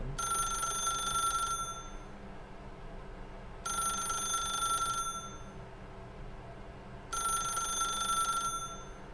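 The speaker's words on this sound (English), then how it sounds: "Okay, fine, I'll pick up the phone." An old-fashioned telephone rings in The Stanley Parable video game, three long bursts of bright electric bell ringing separated by pauses, steady and moderately loud over a faint background hum.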